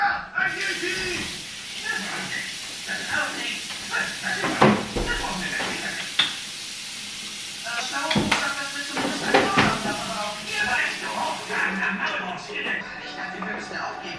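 Meat, onions, garlic and ginger are cooked and mixed in a pan, with utensil clinks and scraping knocks and a faint sizzle. Someone talks over them throughout.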